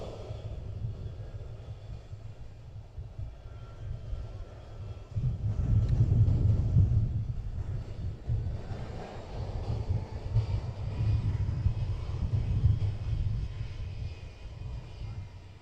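A jet airliner rolls onto the runway at SXM airport on Saint Martin, its engines a steady low rumble that swells louder midway and holds, heard from a distance with no talking.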